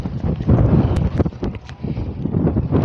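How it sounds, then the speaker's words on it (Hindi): Strong gusty wind buffets the microphone in rough, uneven surges as light rain begins, with a few faint knocks and taps underneath. "तेज़ हवा भी चल रही है साथ।"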